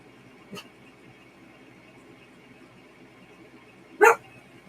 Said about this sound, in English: We're not starting the barking.